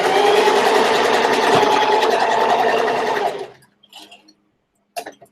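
A sewing machine runs a zigzag stitch through fabric while making a box pouch. A loud, steady mechanical whir runs for about three and a half seconds, then stops, leaving a few faint clicks and handling noises.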